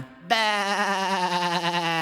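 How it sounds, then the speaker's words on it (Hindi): In a Hindi children's farm rhyme, a sheep lets out a single long, wavering bleat that starts suddenly and holds steady and loud over a faint musical backdrop. "वो एक भेड़ है"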